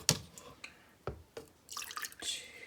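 Filtered water poured for homemade elderberry syrup, heard as a few quiet, separate splashes and drips at close range in a kitchen, spread irregularly through the moment with no talking.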